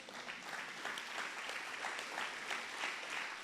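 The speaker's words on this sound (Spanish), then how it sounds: "un aplauso a nuestro Dios" A church congregation applauds during a sermon, producing a continuous, dense wash of many hands clapping together, heard at a modest distance and fairly soft throughout.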